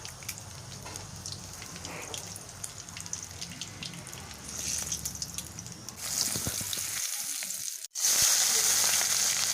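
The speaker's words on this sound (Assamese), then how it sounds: "কণী ফ্ৰাই কৰা তেলখিনিতে আমি পিঁয়াজ আৰু তেজপাতখিনি ঢালি দিছোঁ।" Onions and bay leaves fry in oil left over from frying eggs, a continuous close sizzle that swells louder partway through, cuts out for an instant, then returns as an intense crackling hiss.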